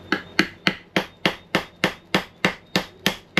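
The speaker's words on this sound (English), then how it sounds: "No, I know I should have a bigger hammer." A hammer strikes a plywood boat deck in a steady run of about twelve sharp, evenly spaced blows, close and loud, each one ringing briefly before the next, with no talking.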